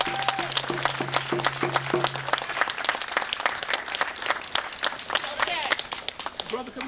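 A crowd claps along at an outdoor rally, rapid rhythmic clapping mixed with chanting and drums, while a voice speaks over the steady beat.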